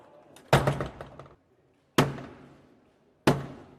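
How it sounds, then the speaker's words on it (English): Heavy doors slam shut in the Parliament building during the State Opening ceremony: three loud separate bangs, each with a long echoing decay in a large hall. "Close the door!"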